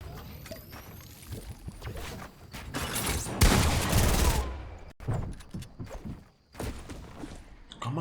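Gunfire rattles in a Fortnite match: bursts of rapid shots at varying distance, with a loud dense burst in the middle and sharp breaks between volleys, plus faint game effects.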